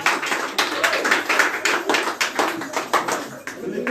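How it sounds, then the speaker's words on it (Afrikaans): A church congregation claps hands together during an Afrikaans communion service, in a steady rhythmic beat that carries through the clip with voices and cheering mixed in. "kom ons klap hande man"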